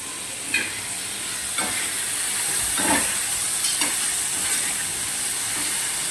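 Chopped potato sautéing in oil, a steady moderate sizzle and hiss with a few soft stirring scrapes scattered through, close by.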